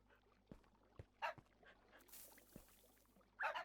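Faint whimpers and short yips from three dogs, one a puppy, in a video game come in scattered bursts over a quiet, low electronic hum, with soft thumps between them.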